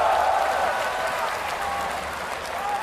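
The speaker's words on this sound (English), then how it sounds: "Just listen to the crowd" A large arena crowd at an LCS All-Stars esports event, EU versus NA, keeps up a dense wash of cheering and applause, steady and fairly distant, with a commentator's voice over it.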